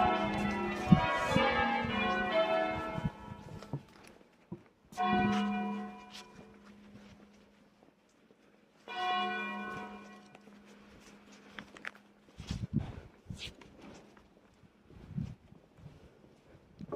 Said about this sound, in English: I've been here numerous times and never heard the bells more than their normal number.